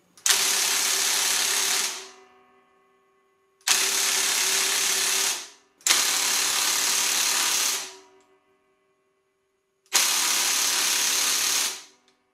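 A Ryobi One+ 18V 400 Nm cordless impact wrench driving fasteners, heard as four loud close bursts of about two seconds each, with short quiet gaps between them.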